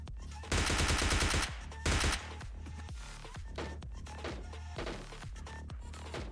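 Video game gunfire in PUBG Lite, with two loud sustained bursts of automatic fire near the start followed by scattered single shots and impacts at a distance.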